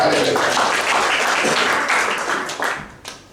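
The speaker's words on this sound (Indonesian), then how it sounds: "Berikan tepuk tangan." Church congregation at a prayer service breaking into applause, a dense steady wash of clapping that holds for a few seconds, then thins and fades out, with voices mixed in.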